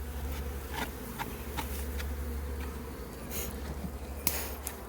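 Honeybees buzz steadily around a polystyrene nucleus hive, a continuous close hum with occasional individual bees passing nearer and a faint tap or two.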